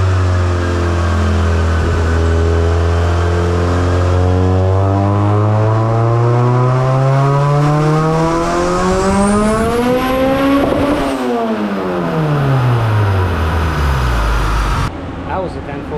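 Honda D2B engine in an EG hatch revving hard on a dyno pull: a loud, continuous turbocharged engine note that climbs steadily through the gears, peaks around the tenth second, then drops off as the throttle closes.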